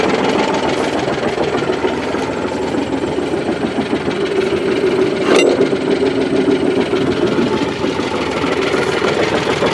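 A tractor engine idles steadily close by, a constant low mechanical rumble with a faint knocking pulse, steady throughout apart from one brief sharp click partway through.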